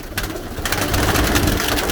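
A pigeon coos close by, loud and steady, with low throaty coos rolling continuously through a short stretch.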